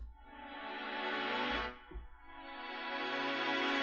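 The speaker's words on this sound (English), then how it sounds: "And this is basically a mellotron." Sustained, breathy mellotron tape strings swell and hold, dip briefly near the middle, then rise again into a rich, layered chord.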